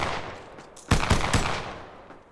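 Gunfire in the video game Apex Legends: a quiet stretch, then a rapid burst of about four sharp shots close together, ringing out and fading.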